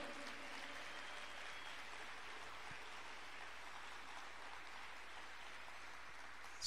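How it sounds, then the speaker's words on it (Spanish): A church congregation claps for Christ during a retreat service, a steady, even patter of many hands heard from a distance with a low hum beneath it. "Dele fuertes palmas al Cristo de la gloria"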